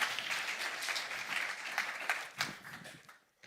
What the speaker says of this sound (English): join me, please, with a big applause for my colleague, Anju Sharma